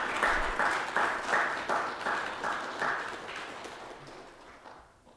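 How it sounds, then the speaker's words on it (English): A small crowd at a Buddhist dharma talk applauds at moderate volume, clapping in steady waves for several seconds before fading out. "Let us give all big applause."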